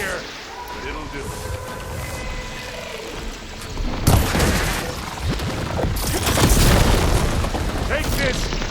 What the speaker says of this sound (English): Hear that? Firing!